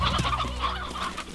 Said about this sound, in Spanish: cuánta gallina!